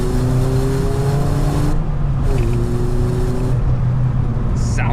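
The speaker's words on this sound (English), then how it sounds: "I listen to the induction. I just think just the cone filter on these cars makes such a difference." Loud, steady induction roar from a Ford Fiesta ST150 fitted with a cone filter, heard from inside the car while driving, with engine tones holding then shifting as revs change.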